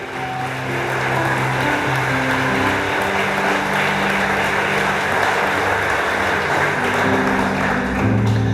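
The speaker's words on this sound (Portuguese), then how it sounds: "dê um forte aplauso a Ele nessa noite" A church congregation gives a loud, sustained round of applause during an evening service, a dense, even wash of clapping lasting throughout, with steady sustained keyboard tones underneath.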